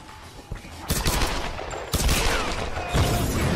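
Bursts of gunfire from the Tomb Raider video game, with rapid shots arriving in three loud clusters near the one-, two- and three-second marks, dense and close over a constant background.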